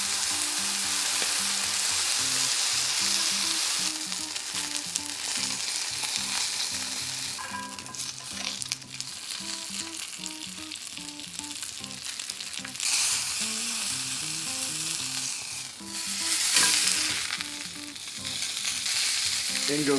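The fat on the edges of a T-bone steak sizzles loudly and steadily as it melts in a hot pan, with bursts of crackling spatter and no talking.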